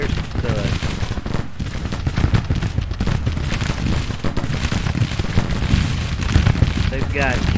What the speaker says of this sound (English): They've got cannons firing directly into them.